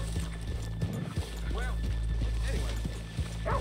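Horses in Red Dead Redemption 2 clip-clop along at a walk, their hooves thudding unevenly and close, with a faint snort, under a low steady ambient hum and bits of muffled talk.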